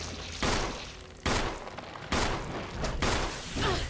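Four loud gunshot blasts at roughly even intervals, fired at a plant boss in Resident Evil HD Remaster, each a sharp broadband burst with a short decaying tail and low background ambience between shots.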